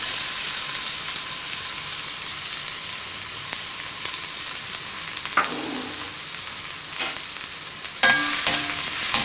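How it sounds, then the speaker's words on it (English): Onion, green chili and ginger garlic paste frying in hot oil, giving a steady close sizzle with a few sharper crackles and clinks of stirring near the end. "I'm going to add in the onion, green chili and ginger garlic paste to this."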